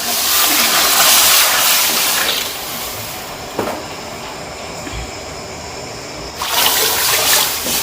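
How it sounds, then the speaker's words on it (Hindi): Ten litres of water pour into a large pot of rice for a 5 kg chana pulao, a loud, steady rushing gush that fades midway and then surges strongly again near the end. "अब हम इसमें पानी शामिल करते हैं।"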